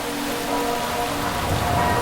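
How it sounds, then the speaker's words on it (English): Steady rain patters on a surface, a continuous soft hiss of drops with a faint low hum beneath. "It can start with a little rain."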